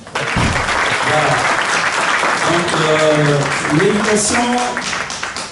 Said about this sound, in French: applaudissez pour les mamans